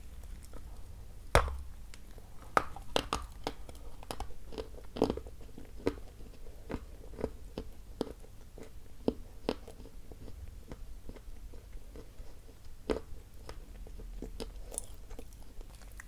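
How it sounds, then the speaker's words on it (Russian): Close, quiet bites and chewing of dense edible clay of the narcissus variety: dull crunches and gritty squeaky chews in an irregular rhythm, no talking. "Он плотный, откусывается с глухим хрустом. Начинаешь жевать, чувствуешь скрип"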